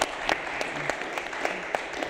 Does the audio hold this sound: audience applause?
yes